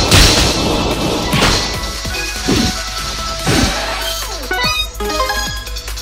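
A Whirlpool attack lands a critical hit in the Pokémon Quest video game, heard as a run of loud crashing, whacking impacts with whooshing effects over a steady game background.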